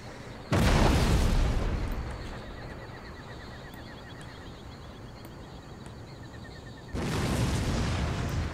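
Artillery cannons boom in the historical strategy game Empire: Total War, two loud blasts several seconds apart over a steady battlefield din with faint horse neighs in the background.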